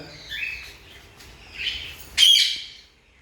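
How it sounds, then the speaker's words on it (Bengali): An Indian ringneck parakeet gives a few harsh, screechy calls with short pauses between them, the last one louder and closer, over quiet background at night. "এটা হচ্ছে ইন্ডিয়ান টিয়া"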